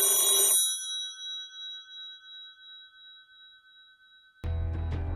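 Telephone on a theatre stage rings with a bright electronic trill, then a long ringing tone that slowly fades, ending with a short burst of noise as it stops.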